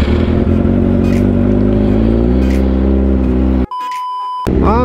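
Kawasaki ZX25R motorcycle warming up, its engine loud and close with steady high revs and a brief dip in the middle, plus a short electronic beep near the end.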